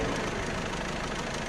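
Newly installed 1.6 HDi engine running with a noise from the camshaft chain side, a steady dense mechanical clatter and hum that stays loud and unbroken.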